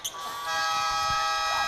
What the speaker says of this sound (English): And as the buzzer sounds, that's going to conclude our opening chapter.